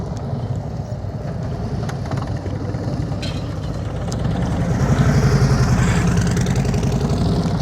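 A motorcycle engine idles at very low throttle during slow-speed riding practice, a steady low rumble that continues throughout and swells slightly louder in the second half.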